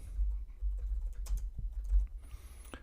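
Typing on a computer keyboard while writing a code comment, a quiet run of uneven key clicks and taps close by, with no talk.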